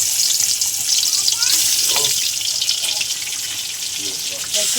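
Salted, turmeric-coated fish heads frying in hot oil in a kadai, a loud, hissing sizzle with some bubbling and spattering, close up, dipping slightly before surging again at the end.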